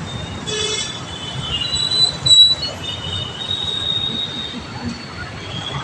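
A metro train moves through a metro station, with thin, high wheel squeals rising and fading over a low rumble of traffic and rolling stock, loudest at one brief peak midway.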